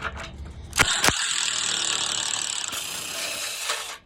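A ratchet spinning screws out of a car panel during teardown, a continuous rapid clicking whir close to the mic with a couple of sharp knocks near the start and a brief change in pitch midway.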